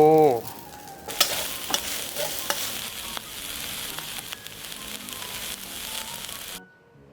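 Fried rice with carrot, spring onion and crab meat sizzles hard in a hot pan, with scraping and clacking of stirring throughout, close and steady after a short tonal sound at the start.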